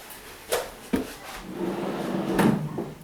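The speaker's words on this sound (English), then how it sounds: "open the drawer" A washing machine drawer opened with a couple of sharp plastic clunks, followed by a softer sliding scrape, all close and without talk.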